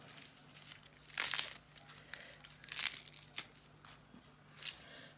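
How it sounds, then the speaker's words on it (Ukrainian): Salad lettuce leaves are torn apart by hand, giving a few quiet, crisp crinkling and ripping bursts separated by short pauses, close by with no talking. "І весь салат ми порвемо."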